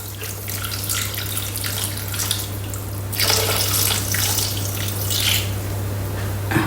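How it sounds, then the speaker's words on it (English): Warm water pours into a Thermomix bowl in a steady, continuous stream, with a louder splashing surge partway through, over a constant low appliance hum; no one speaks. "Next, 180 grams of warm water."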